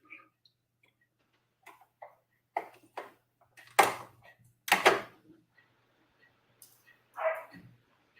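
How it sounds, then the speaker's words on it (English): A household dog barks a few times in the room during a scale-model bus build, loud sharp barks spaced out between quieter ticks and clicks, with no talking. "That was our dog this time."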